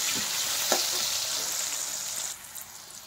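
Pumpkin and banana pieces frying in hot oil in a pan, a steady close crackling sizzle with a few sharper spatters and a stir early on, fading somewhat toward the end.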